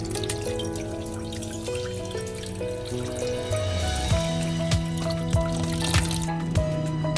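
Boiled taro being drained as water pours and drips steadily, with hollow bright drips and clinks against a pot or colander throughout, close and continuous.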